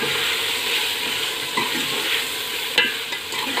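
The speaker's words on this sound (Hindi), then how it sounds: "अच्छी तरह मिक्स करूँगी" Whole garam masala spices are stirred in a frying pan while cooking baingan, a continuous hiss of frying with soft scraping stir strokes and a sharper clatter near the end, close and loud without speech.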